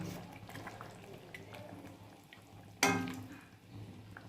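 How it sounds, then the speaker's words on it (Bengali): Fish curry broth boiling hard in a pot, a steady bubbling, sizzling wash close by with a sharper burst of spattering partway through. "মাছের রসার ঝোল ফুটছে কেমন টকবগিয়ে, দেখো।"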